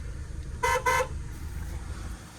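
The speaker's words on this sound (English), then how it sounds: "So yeah, that's the horn." Horn of a 1996 Ford Ranger truck with a 2.3L engine and manual transmission, sounding two short loud honks close by over a low idle rumble.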